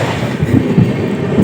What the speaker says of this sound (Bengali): আমাদের ট্রেন এখন ক্রস করছে জাজপুর রেলওয়ে স্টেশন।